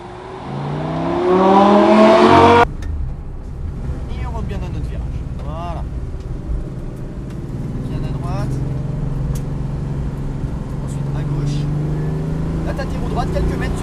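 A car picks up speed during a driving lesson, the engine rising in pitch for a couple of seconds before abruptly dropping off, followed by a steady cabin drone as an instructor keeps talking.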